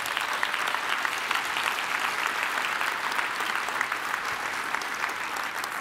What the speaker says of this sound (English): we can do a big round of applause